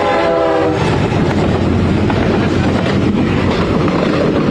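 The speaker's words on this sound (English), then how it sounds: "Coming behind me right now is the first train out of Jacksonville" The first train out of Jacksonville passes close behind an outdoor TV news reporter, its horn sounding briefly at the start before a loud, steady rumble and clatter of rail cars continues throughout.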